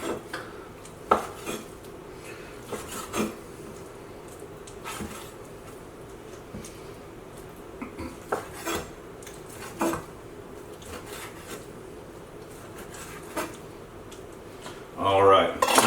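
Wild turkey meat being cut up in a kitchen, with knife and utensil clinks and scrapes against a dish scattered throughout, someone talking over them and a louder clatter at the end.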